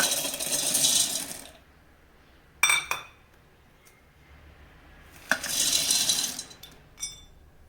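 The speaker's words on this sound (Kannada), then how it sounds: "ಈಗ ಜಾರಿಗೆ ಶೇಂಗಾ ಹಾಕೋಣ" Peanuts tipped into a steel mixer jar while making shenga holige, giving two bursts of hard clattering rattle, each about a second long, separated by quiet, with a few light clinks in between.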